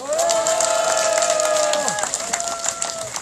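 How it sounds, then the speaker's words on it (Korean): A crowd at an anti-THAAD peace rally claps steadily in a dense wash of applause, with sustained tones sounding above it that fall away partway through. "우리 모두를 위해서 큰 박수 주시기 바랍니다"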